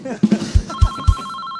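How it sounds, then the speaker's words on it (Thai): A telephone in a Thai comedy live stream starts ringing partway through with a steady electronic ringtone, heard beside a few dull thumps and voices. "เฮ้ยโทรศัพท์เข้า"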